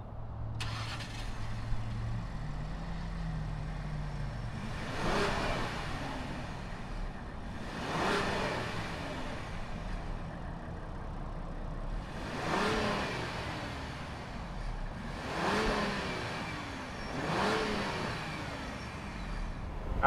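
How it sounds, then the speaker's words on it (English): A 2020 Ford Explorer ST performance SUV revs through its aftermarket-style exhaust, giving five or six repeated rising revs spaced a few seconds apart over a steady idle, moderately close with no talk. "fire it up, and see what it sounds like out of that interesting exhaust"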